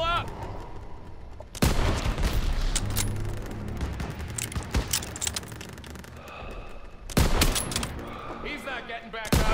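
Heavy anti-aircraft gun fire in the Call of Duty WWII courtyard battle, with loud bursts and booms dense throughout and sharp blasts near the start and end, with shouting soldiers mixed in.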